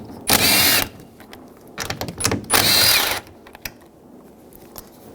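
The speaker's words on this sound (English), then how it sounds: "Using a 10mm socket, take these 3 nuts out." A 10mm socket on a power driver spins out nuts holding a Ram 1500 side mirror, two long whirring bursts separated by shorter stuttering runs and clicks, close and loud with quiet gaps between.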